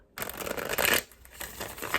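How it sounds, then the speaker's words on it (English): Tarot cards being shuffled by hand in two quick riffling bursts, crisp and close, with a short pause between them. "Let me do a couple shuffles here."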